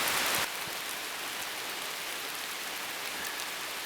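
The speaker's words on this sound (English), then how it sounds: "What are you going to do about the rain that's just happening right now?" Rain falls steadily on the Appalachian Trail, a dense, even hiss of drops on surfaces, slightly louder in the first half second and then constant throughout without talk.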